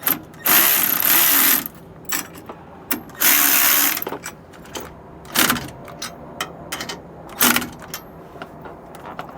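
A ratchet wrench tightens bolts on a Roadmaster steering stabilizer in several loud, close bursts of fast metallic clicking. Shorter clicks and clinks of tool handling fall between the runs.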